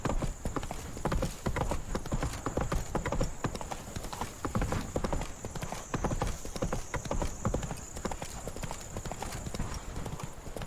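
Roach, a horse in The Witcher 3, gallops in a fast, steady clip-clop of hooves that runs the whole way through, loud and continuous, with a constant high-pitched game ambience underneath.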